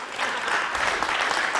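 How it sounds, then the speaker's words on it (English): An audience stands and claps in a dense, steady burst of applause that fills the room, loud and continuous with no individual voices standing out. "They're standing up and clapping."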